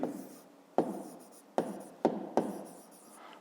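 Pen strokes writing a math formula on paper for a fifth-grade geometry exercise, several separate scratchy strokes in an uneven rhythm, close and fairly quiet with no talking.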